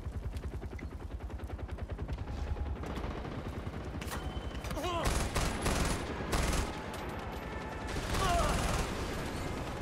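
An MG42 machine gun fires in a Far Cry game, a long, rapid, continuous burst of shots with heavier blasts layered in partway through, loud and close throughout.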